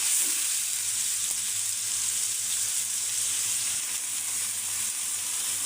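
Tilapia fish fries with ground spice paste in a village-style pan, giving off a constant close sizzle that stays steady and unbroken throughout, with no talking.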